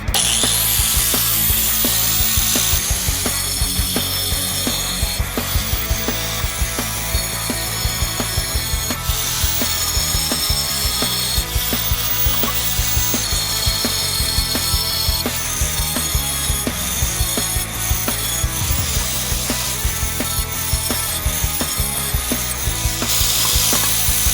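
A power tool grinds a circular hole through tile set up outdoors on deck posts, a loud continuous rasping drone with a rapid ratcheting rattle that lasts throughout, with no speech.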